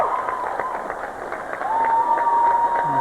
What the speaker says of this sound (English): This crowd really getting excited here.